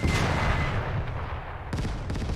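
In the video game Gates of Hell, set during the 1941 German invasion of the Soviet Union, artillery fire rumbles under a constant battlefield din, with two sharper booming impacts near the end.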